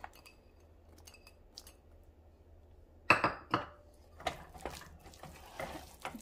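A spoon stirs cooked sticky rice with added raisins in a pot, a few close scraping and clacking strokes against the pot following a quiet stretch, with no talk.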